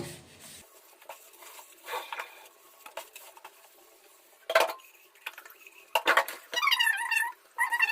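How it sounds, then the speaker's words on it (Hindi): Dishes being washed by hand in a home kitchen, with steel pots and cutlery clinking and clattering in irregular bursts, close by, over running and splashing water, no talking. "चलिए अब मैं बर्तन धो देती हूँ।"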